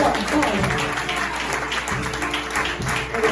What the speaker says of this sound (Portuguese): Você pode aplaudir porque é pro Rei?